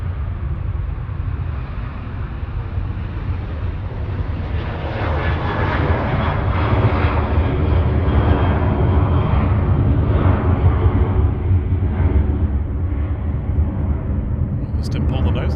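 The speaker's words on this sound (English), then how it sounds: "This is Ryanair departing to Bologna." A Ryanair airliner departs for Bologna from Manchester Airport, its jet engines a steady, loud roar that swells and holds throughout, with a brief faint click near the end.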